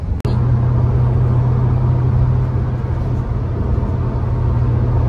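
A Perodua Aruz engine strains up the hill road to Genting, a constant loud low hum with a steady engine tone holding throughout after a brief click at the start.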